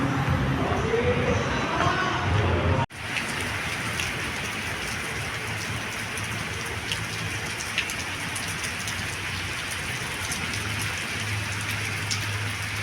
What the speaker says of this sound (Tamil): திடீர்னு மழை வந்துருச்சுங்க ஒன்றுமே பண்ண முடியல